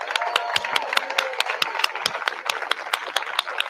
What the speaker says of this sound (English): Let's do one more round of applause for Diane